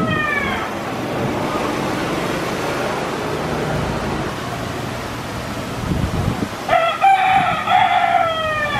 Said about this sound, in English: There's like wild rooster everywhere here.